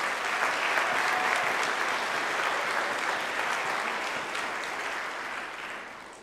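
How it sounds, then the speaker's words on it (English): A concert audience at a high school holiday finale concert gives a round of applause, a dense, steady wash of clapping that holds strong and then slowly fades toward the end. "So let's give a round of applause to them."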